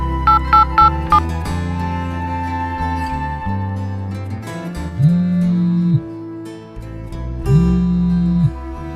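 A phone call ringing out: a few quick dialing beeps, then two long, steady ringback tones about two seconds apart, heard over loud background music.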